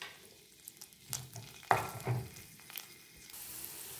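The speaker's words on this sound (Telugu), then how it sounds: "పాన్లో మరో స్పూన్ ఆయిల్ వేసి సన్నగా తరుక్కున్న ఉల్లిపాయలు ఒక 2 స్పూన్లు" Finely chopped onions fry in a spoonful of oil in a pan, a soft steady sizzle with occasional stirring clatters and one sharper scrape, fairly quiet and with no talking.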